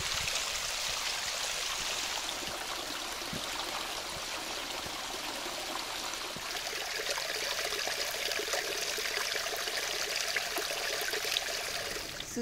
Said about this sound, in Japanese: せせらぎが気持ちいいです。